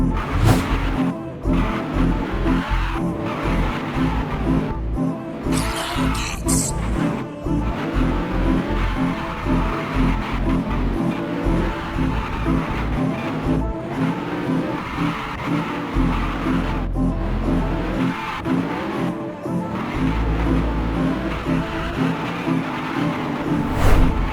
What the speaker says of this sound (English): As you can see, it does beautiful donuts as a drift.